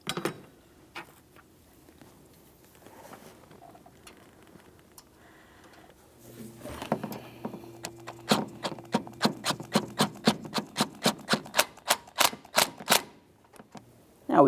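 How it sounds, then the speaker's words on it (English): Close mechanical clicking from a ratchet snugging a 10mm headed bolt on a 2003-2007 Honda Accord power steering return line, starting with scattered taps then a steady run of sharp ticks that speed up and stop. "Start in the 10mm headed bolt and snug it up."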